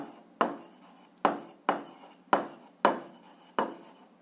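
A pen or chalk writes out an algebra solution, producing six quick scratchy strokes in a steady rhythm, close and fairly quiet, with no voices.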